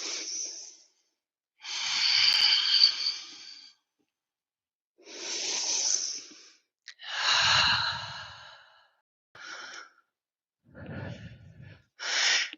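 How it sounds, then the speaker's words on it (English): Slow, deep breaths during a yoga session, each a long airy inhale or exhale close up, separated by quiet pauses, about six breaths in all with no talking. "Just a couple more breaths"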